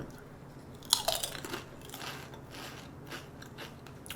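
Yukgaejang-flavored potato chips are bitten and chewed up close, a sharp crunch followed by softer crackling chews that fade into quiet mouth sounds.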